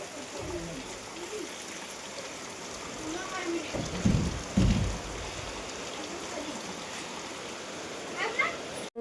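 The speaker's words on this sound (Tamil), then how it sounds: "வெளியே மழை, சரியான மழை பெய்யுது." Heavy rain falls outside at night, a steady broadband hiss throughout with some louder bursts midway, as if drops strike a nearby surface; faint voices or other sounds rise briefly near the end.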